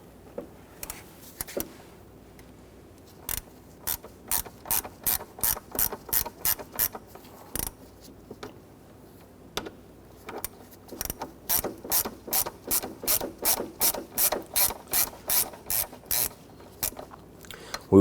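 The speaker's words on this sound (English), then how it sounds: "use a T20 Torx bit to loosen and remove these screws" A T20 Torx bit ratchets out screws on the mass air flow sensor of a 2006-2010 Hummer H3, giving close, crisp clicking in quick rhythmic bursts with short pauses between runs.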